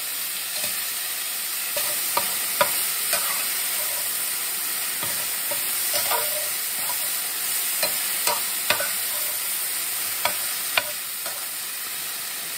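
Frozen cauliflower pieces sizzling steadily in a hot pan, with a spatula stirring and tapping at irregular intervals over the continuous frying hiss.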